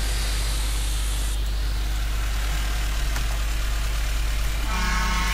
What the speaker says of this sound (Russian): Все, сигнал у нас есть.